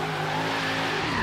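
A Mazda Miata skids through a drift in Forza Horizon 3, its tires squealing in a loud, continuous screech over engine drone, with no voices.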